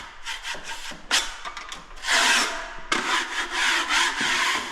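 Drywall plaster being scraped on a square set doorway opening, a close, loud, rough rasping in uneven strokes with short pauses between, no voices.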